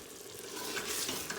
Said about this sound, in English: So I'm gonna give this a stir